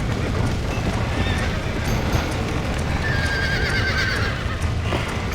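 Horses in the Red Dead Redemption video game neigh and whinny while hooves clip-clop continuously, set against a dense, loud bed of wind and outdoor ambience with no pauses.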